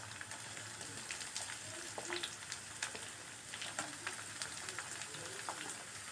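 Onions frying in oil with mustard seeds and curry leaves in a pan, a soft continuous sizzle with scattered pops and crackles, heard close and quiet with no voices.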